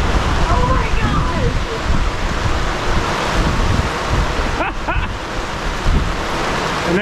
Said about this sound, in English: it's like very heavily raining now